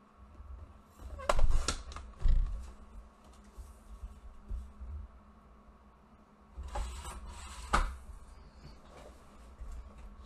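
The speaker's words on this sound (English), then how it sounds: "So I'll cut it here on my cutter, and I'll cut it down to 5 7/8." A paper cutter trims cardstock down to a 1.5-inch piece in two short, close bursts of sliding and slicing, with quiet gaps between the cuts.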